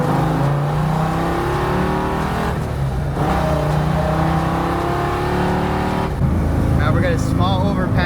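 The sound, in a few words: V10 Lincoln Continental engine revving while driving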